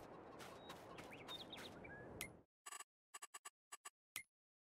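Chickens in the video game Farming Simulator 22 cluck and chatter over a dense background, which cuts out abruptly, leaving a few sharp, isolated clicks and one brief squawk.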